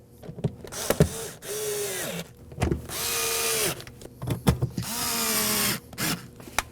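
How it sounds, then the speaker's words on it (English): A power driver runs Phillips screws into the fuel pump lid of a 2014-2020 Acura MDX 3.5L V6, with several whirring bursts that rise and fall in pitch, separated by brief clicks and handling noises, heard up close. "Now we're ready to reinstall the 3 Phillips screws that go over here."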